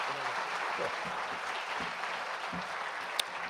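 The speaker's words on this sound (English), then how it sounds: "Please, a round of applause." Steady applause from a crowd, continuous clapping throughout with a brief sharp clap near the end.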